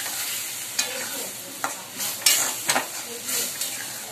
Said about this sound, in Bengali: তো ডালটা আমি এই যে ফোড়ন দিয়ে দিচ্ছি